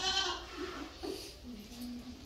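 A goat in a video game bleats in a few quavering cries, faint and fairly close, over quiet background.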